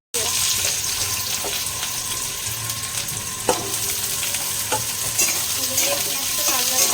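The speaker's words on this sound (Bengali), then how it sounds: "দিয়ে পেঁয়াজটা লাল লাল করে ভেজে নেব" Chopped onions frying in hot oil in a pan, a steady dense sizzle with occasional clinks and scrapes of a spatula stirring, close and fairly loud.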